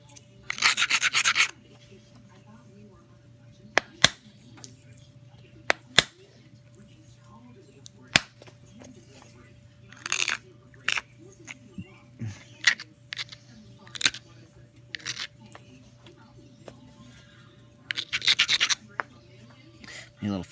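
Whitetail deer antler tine punch being resharpened, short scraping and rubbing strokes in irregular bursts with sharp clicks between them, close and fairly quiet.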